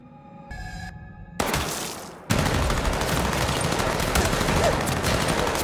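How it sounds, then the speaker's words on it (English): Single sharp sniper rifle gunshot in a tense TV drama scene, a loud sudden crack that cuts into a sustained noisy wash, after a brief quieter tonal passage; no talk over it. "a sniper puts a bullet straight through the manager's head and shocks the group"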